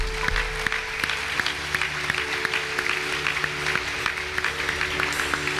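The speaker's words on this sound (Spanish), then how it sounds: "Dale un aplauso al Señor, claro que sí." A church congregation claps at a moderate volume with distinct individual claps, while an organ or keyboard sustains tones underneath the applause.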